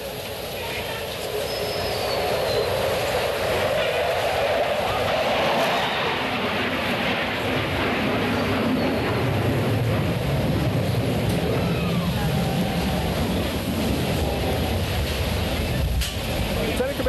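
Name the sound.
jet aircraft flying a knife edge pass at an airshow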